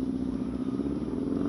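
A motorcycle's loud exhaust drones steadily nearby, a low rumbling roar that holds constant throughout without pause.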